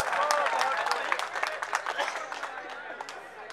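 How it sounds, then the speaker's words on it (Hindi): Audience at an Indian mushaira claps to welcome a poet, a lively round of applause that starts strong and gradually thins out, with some crowd murmur underneath. "जोरदार तालियां बजाइए"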